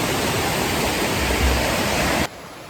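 A forest stream rushes beside a hillside shrine in steady, dense broadband flow, close and continuous, then cuts off abruptly just before the end.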